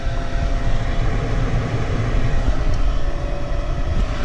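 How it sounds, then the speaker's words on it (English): Inducer motor on a Lennox gas furnace with a fault, ramping up into a loud, steady whirring drone with a rumbling low end that holds constant throughout. "Inducer motor's ramping up."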